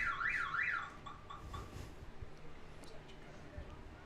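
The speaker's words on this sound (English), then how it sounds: "We all know whose car alarm that was." A car alarm wails at a baseball game, its rising and falling siren tone loud for the first second before cutting out, leaving crowd and field noise behind.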